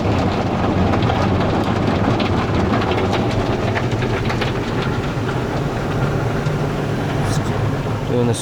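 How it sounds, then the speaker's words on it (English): Spot-free rinse at a Petro Canada car wash in Guelph, Ontario, water spraying in a steady loud rushing hiss over low machine rumble, with a voice speaking briefly. "Doing the spot-free rinse."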